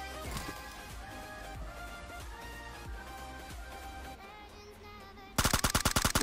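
Gunfire in the battle royale PUBG Mobile on a desert map: distant scattered shots under game music, then a sudden loud rapid burst of close automatic fire at the end.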